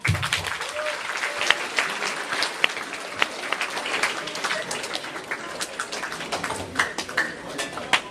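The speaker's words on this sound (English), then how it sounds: "I want you guys to give yourselves a round of applause." Applause from a school assembly audience fills the space, dense steady clapping sustained throughout at close range, with some voices mixed in.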